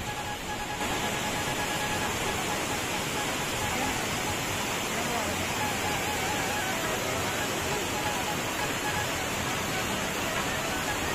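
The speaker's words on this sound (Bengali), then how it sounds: "কানে ভেসে আসছে দুর্গা ফলসের জলের আওয়াজ" Durga Falls, a cascading waterfall, roars steadily with a dense, unbroken rush of falling water that stays loud and constant throughout.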